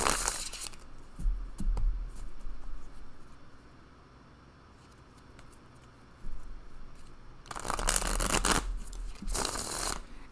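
Cards are shuffled in two quick, crackling bursts near the start and end, with quieter handling and rustling in between.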